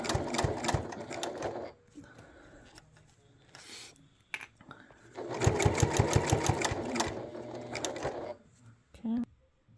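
A Bernette 08 sewing machine with compensating feet stitches quilt binding in loud, rapid mechanical bursts, stopping and starting between runs, heard up close.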